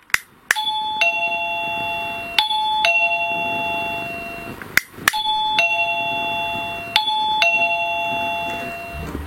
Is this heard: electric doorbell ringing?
yes